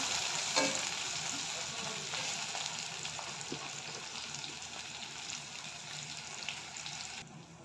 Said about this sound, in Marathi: टोमॅटोलाही छान परतून घ्यायचं आहे तेलामध्ये. टोमॅटो थोडा नरम होईपर्यंत आपल्याला छानपैकी परतून घ्यायचं